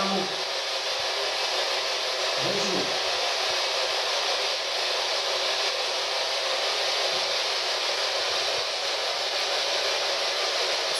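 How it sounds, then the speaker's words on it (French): Continuous loud hissing static from a black box device during a paranormal investigation, broadband and unbroken, with a couple of faint murmurs briefly beneath it near the start. "boîtier noir qui fait du bruit,"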